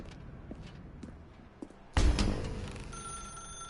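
Telephone ringing inside The Stanley Parable video game: faint repeated rings in a quiet room with footsteps, then a sudden louder clattering burst as the phone sounds closer.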